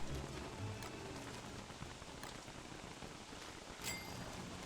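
Steady heavy rain falls in Don't Starve Together, a dense, even hiss of drops with a few sharper spatters, moderately quiet and continuous with no talk.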